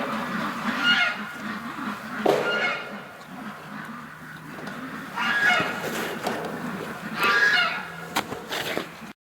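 Ducks being herded outdoors on a winter day, giving several bursts of quacking and honking calls at a moderate distance over a steady low background hum.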